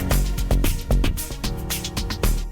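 Dense, heavily limited music playback with dynamics crushed flat by a mastering limiter, a loud wall of sound with punchy beats pressed against a constant ceiling for a few seconds, no talking.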